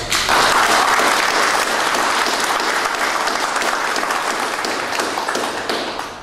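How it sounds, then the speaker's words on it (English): A loud, sustained round of applause from a large graduation ceremony crowd, dense continuous clapping filling the space and easing slightly at the end. "we should give a round of applause to the friends and family and faculty who helped do so much"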